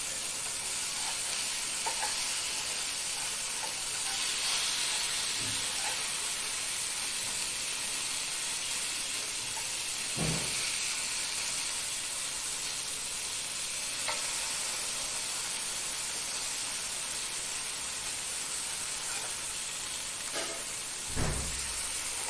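Fish frying in a pan, a steady loud sizzle running throughout with occasional pops and a few stirring or turning knocks near the end.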